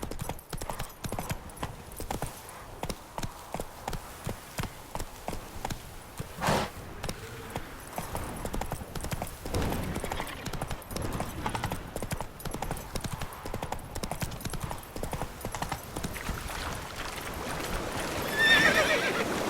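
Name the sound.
Geralt's horse Roach galloping and neighing, from video game The Witcher 3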